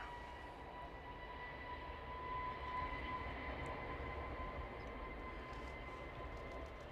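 An EasyJet airliner begins its takeoff roll at Manchester Airport, heard from a distance as a faint, steady jet rumble with a thin whine, swelling slightly midway.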